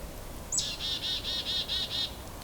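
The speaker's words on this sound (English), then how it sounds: "Got hairy woodpecker, which is that squeaky one in the distance." A hairy woodpecker gives a squeaky call in the distance: one sharp note followed by a rapid, evenly spaced series of about six high chattering notes over faint background hiss.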